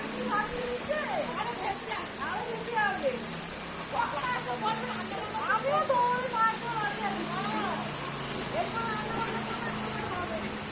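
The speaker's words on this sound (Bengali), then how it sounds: "আজকেও বৃষ্টি হচ্ছে" Heavy monsoon rain pours steadily on a Shravan Monday outing, a dense continuous hiss throughout, while people talk over it intermittently.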